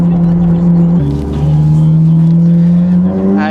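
Ferrari 458 Italia engine driven on mountain roads, a loud droning note that drops at a gear change and then climbs again, with a brief voice heard near the end.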